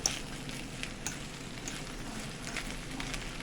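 A vegan West African rice pot with okra, tomato, spring onions and greens is stirred, giving soft scraping and scattered clinks over a steady gentle sizzle.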